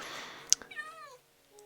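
A house cat gives a short, faint meow nearby, a single drawn-out rising and falling call after a brief click, with quiet room noise around it.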